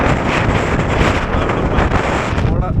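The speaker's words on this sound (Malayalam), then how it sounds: "ഇവിടെ നിൽക്കാൻ പറ്റത്തില്ല, ഭയങ്കര കാറ്റ്" Strong gusting wind on a rocky hilltop viewpoint at Rajathottam, Meeshappulimala, Kollam, buffets the microphone in a loud, constant roar that fills the whole clip.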